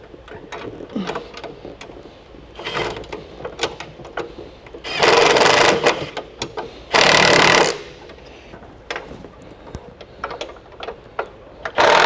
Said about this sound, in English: Now we can take a 9/16 socket and a wrench and tighten the upper hardware.